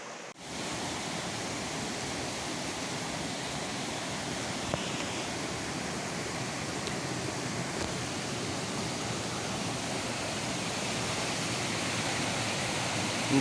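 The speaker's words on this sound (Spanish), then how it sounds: "cómo ruge, cómo baja el cauce por ahí, por esos saltos" Río Negro roaring down a series of waterfall drops on a mountain route, a constant, dense rush of whitewater that holds steady and fills the whole span without a break.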